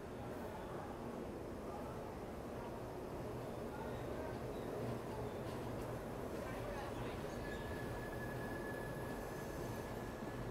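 Inside the Tirumala Express as it pulls out of Visakhapatnam behind an ALCO diesel locomotive, a faint steady rolling rumble of the carriages with a thin wheel squeal appearing toward the end.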